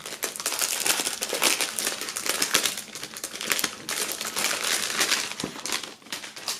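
Plastic foil wrapping crinkled and pulled off items from a music box set, a continuous close crackling and rustling that rises and falls, with no voices.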